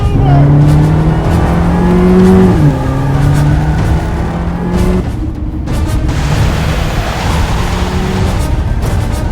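A car engine revs hard and pulls away in a chase, loud and close, its pitch climbing through gear changes before the sound cuts and the car fades into the distance.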